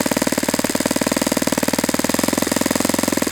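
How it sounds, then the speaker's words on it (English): A Saito FA-91S four-stroke model airplane engine runs loud and close, its fast steady buzz rising and falling slightly in speed. "You can kind of hear the RPM pick up and then drop back down."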